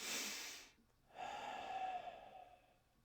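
A slow human breath taken close up: a loud airy rush, a brief pause, then a longer, softer drawn-in inhale that fades gradually.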